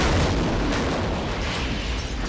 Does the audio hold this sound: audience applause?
no